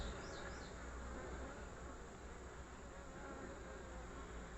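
Honey bees buzz steadily around a brood frame lifted from a split hive, a dense, continuous drone with a few nearer flybys, faint overall and with no one speaking.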